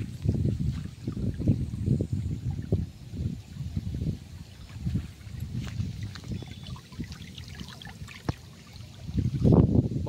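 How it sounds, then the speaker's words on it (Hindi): Rainwater rushes and gurgles through flooded farm fields in stormy weather, giving uneven bursts of splashing flow at moderate, close range with no speech. "ये देखिए दोस्तों ये पानी देखिए हमारे यहाँ चल रहा है।"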